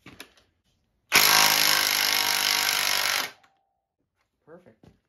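An impact wrench drives a bolt into threads of the wrong size in one loud, close, rattling burst of about two seconds, followed by brief faint voices.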